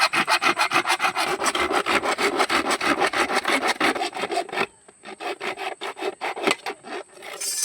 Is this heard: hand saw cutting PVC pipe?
yes